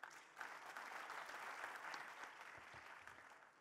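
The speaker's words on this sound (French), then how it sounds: "je souhaiterais vous demander un applaudissement pour toutes ces actions structurantes" A room full of people applauds steadily at an industry panel event, a dense wash of clapping that holds for a few seconds before starting to thin.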